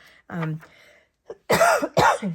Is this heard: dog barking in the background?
no